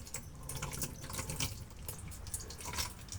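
Curd and water are poured into a 30-litre drum, giving a steady splashing, gurgling pour with small drips. It is close and continuous, with no talk.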